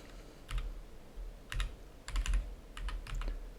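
Computer keyboard typing in a quiet room, several short bursts of clicky keystrokes with brief pauses between, close and fairly soft, no talking.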